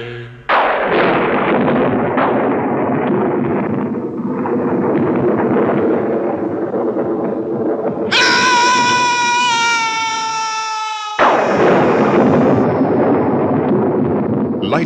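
Thunder crashes during a lightning storm in a 1969 haunted mansion story, a loud, sustained rolling rumble that runs for many seconds before high, eerie wailing tones cut in over it.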